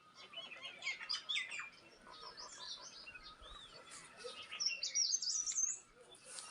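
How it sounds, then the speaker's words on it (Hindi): Several small birds chirp and tweet in quick, scattered bursts, moderately close, in an otherwise quiet garden on a morning in a mountain village in Pithoragarh, Uttarakhand, India. "इस टाइम पे तमाम सुबह पशु पक्षी चिड़ियाँ चहचहाने लगती है।"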